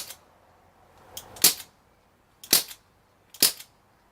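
Crosman 1077 air rifle fitted with a silencer, muzzle brake and LDC monocore, firing three sharp, close snapping shots about a second apart, each preceded by a faint click, with no talking.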